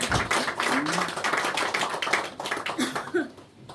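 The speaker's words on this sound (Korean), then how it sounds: "우리 하나님께 영광의 박수를 드리겠습니다" A church congregation applauds during a Sunday service, a dense run of claps from many hands carrying on for several seconds with a few voices mixed in.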